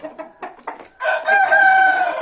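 Rooster gives a few short clucks, then launches into a loud, close, sustained crow that rings out clearly to the end.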